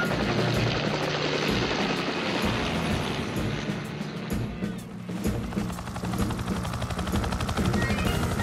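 A cartoon helicopter flies during a fire rescue at a cliff, its rotor thudding in a loud, steady, rapid chop that runs the whole time with a brief dip midway.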